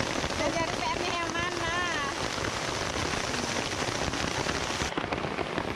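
Steady rain falling outdoors beside a waterfall and stream, a dense continuous hiss filling the whole stretch with some faint voices and chatter mixed in.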